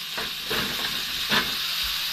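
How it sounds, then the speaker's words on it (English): Red and green peppers fry in a Thai red curry in a pan aboard a 38 ft Princess motor yacht, giving a steady close hiss and sizzle with a few soft stirring bumps throughout. "Now, at this point, I like to add the red and green peppers, just to fry them off really."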